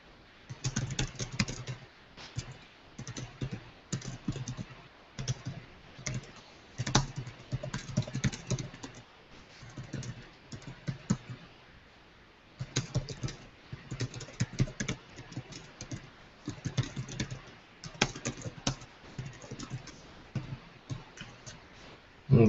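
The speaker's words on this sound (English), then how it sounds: "Let me type a response to him real quick" Steady typing on a computer keyboard, close and quiet, with fast runs of key clicks broken by brief pauses and a final louder keystroke.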